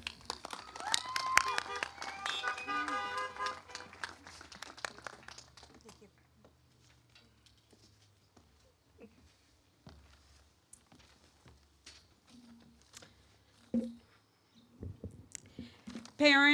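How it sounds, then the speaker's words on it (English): Crowd applause at a 2020 high school graduation ceremony fills the opening seconds, then fades, leaving a quiet hall with scattered small noises before a voice begins speaking. "Everyone, please join me in giving a warm round of applause for our keynote speaker"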